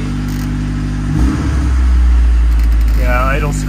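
A Saab 900 engine idles cold with a steady low hum and drone that swells slightly midway, heard close by while someone talks over it.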